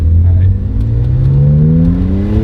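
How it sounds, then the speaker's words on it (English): A BMW N54 335i with a DCI intake revs loudly, its engine note climbing steadily in pitch over a couple of seconds with a rising whir, close and continuous, with no one talking over it. "So that sound that we're hearing is just the intakes"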